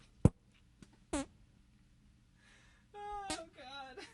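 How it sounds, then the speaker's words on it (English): Short wet fart bursts come close and fairly loud, caught on a condenser mic, scattered among pauses with a few voiced squeaky blips near the end. "You fart boxing over there."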